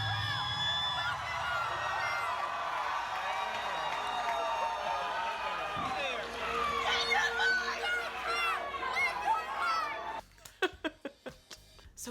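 At a concert, a roommate screams amid a roaring crowd with cheering, whoops and laughter, sustained and loud before breaking into short scattered bursts near the end.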